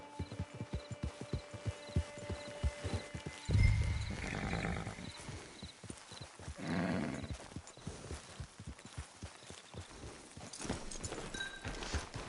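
Rhythmic clip-clop of horse hooves trotting steadily throughout in Red Dead Online, with a snort or whinny near the middle, against a faint game-like ambience.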